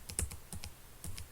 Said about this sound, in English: Just using the up and down arrow keys to bring that up.